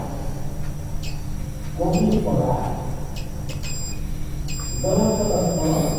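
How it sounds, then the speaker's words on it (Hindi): A multimeter giving short high continuity beeps while a diode is tested on a switch-mode power supply board, several brief tones and one longer beep, with someone talking in between. "एक डायोड में बीप साउंड आ रहा है"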